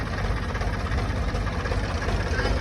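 A farm tractor's engine idles steadily at night in a field, a constant low rumbling chug with no pauses.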